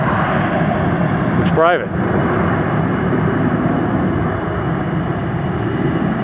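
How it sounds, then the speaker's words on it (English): A Southwest Airlines Boeing 737 jet flies overhead near Hartsfield-Jackson airport in Atlanta, a loud, steady broadband roar that fills the whole stretch while a voice briefly speaks. "it's a Boeing 737 operated by Southwest Airlines"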